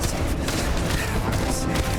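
Gunfire in the space game Starfield, a dense, continuous clatter of shots and booming impacts filling the mix loudly and close, with no clear gaps between bursts.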